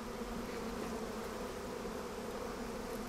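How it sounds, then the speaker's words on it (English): Continuous low buzzing of many black honeybees in Scotland, a steady droning hum with no voices, moderately quiet. "We need to conserve the black bees."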